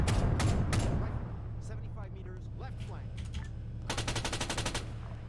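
Bursts of gunfire ring out in the Arma 3 video game during a tank assault, including armor-piercing tank rounds. There are rapid crackling volleys at the start and again near the end, with voice chatter in between.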